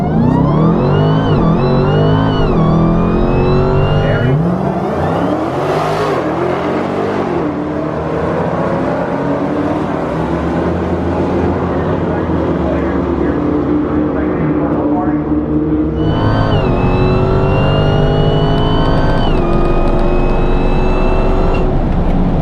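A drag race car makes a pass down a drag strip at a Mopar car show event, its engine loud and continuous with rising and falling revs throughout, a second surge of acceleration near the end, with a crowd murmuring faintly.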